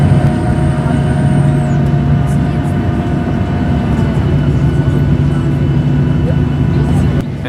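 Cabin of a Norwegian Boeing 737-800 pushing back at Oslo, a loud continuous engine and airframe rumble with a steady hum and a faint high whine.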